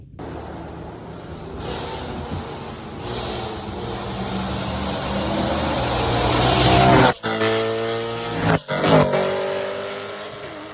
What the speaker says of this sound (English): We're gonna probably get a flyby video to see how this sounds.